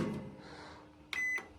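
An AEG MCD2665E-M microwave oven, just repaired after a loose connection, is switched on: a faint low hum, then a loud, steady electronic beep lasting about a quarter second near the end.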